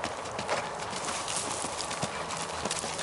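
Horse trotting over ground at a canter-like pace, steady clip-clop hoofbeats in a regular rhythm, fairly faint and outdoors with light background noise and no clear talk.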